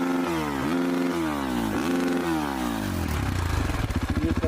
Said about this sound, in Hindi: ये कर रही है बाइक की साउंड चेक।